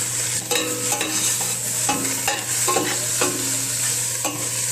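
Meat frying in a pan with garlic and onion, a close, constant sizzle broken by repeated scraping stirs of a utensil every half second or so.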